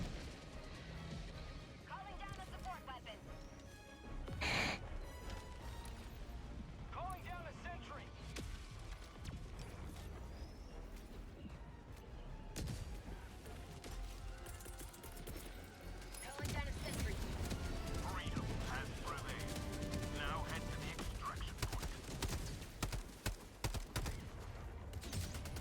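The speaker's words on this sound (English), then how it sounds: "Who brought a frickin' mortar?" Heavy explosive booms and crashing impacts from mortar fire in a video game, with loud bursts near the 5-second mark and again from about 17 seconds on, over dense game noise while a person talks throughout.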